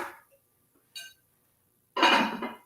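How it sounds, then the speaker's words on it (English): A slow cooker's ceramic crock is set down into its heating base with a short, loud clatter of ceramic on metal, after a faint light clink. No talking is heard. "we're just going to sit this over in our slow cooker base"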